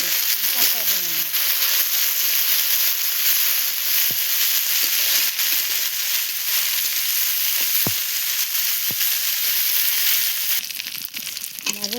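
Garlic frying in a pan, a constant loud sizzle and hiss close up, with occasional clicks of stirring and a voice speaking over it.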